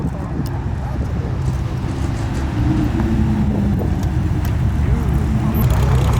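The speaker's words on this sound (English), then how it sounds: "Got the Gallardo rolling in." A Lamborghini Gallardo supercar rolls in at a car meet, its low engine rumble steady and fairly loud throughout, with people talking over it.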